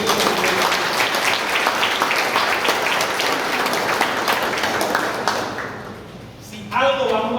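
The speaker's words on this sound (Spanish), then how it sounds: "ustedes se merecen mi aplauso." A crowd applauds at a Patria Querida political rally in Paraguay presenting Senate and deputy candidates, loud dense clapping that tapers off, followed briefly by someone speaking.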